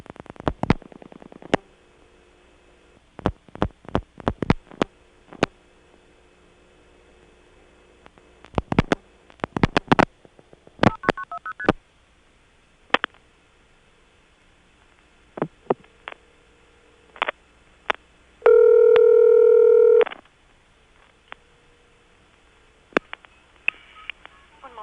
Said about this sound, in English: I'm going to dial an 8 again, and then a bunch of 1s, and it's going to turn out that this is going over the operator toll equipment